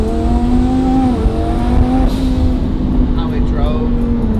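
A turbocharged car engine on a stock motor with an upgraded turbo kit and retune drones loudly and steadily, its pitch dipping and rising as it revs, while someone talks over it.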